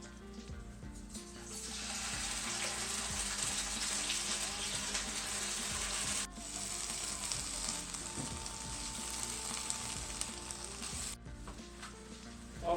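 Spring rolls fry in hot oil in a wok, a loud, steady sizzle and crackle that runs continuously, briefly dropping as they are moved or stirred, with no talking.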